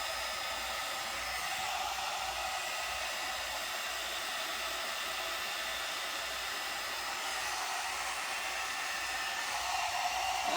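Steady, close rush of air from a One Step hot air brush on a medium setting, drying and straightening curly hair, an even broadband whoosh with a low motor hum and no talking.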